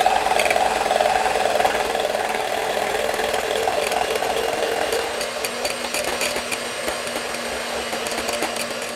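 An electric beater whips chilled heavy whipping cream in a bowl, giving a steady, loud motor whir that runs throughout with a slight pitch shift partway.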